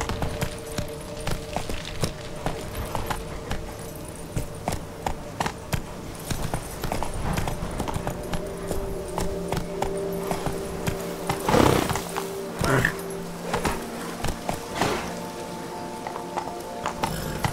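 Hooves of the horse Roach galloping in the Witcher 3 video game, a steady rhythmic clatter over a background bed with a few louder thumps near the end; no voices.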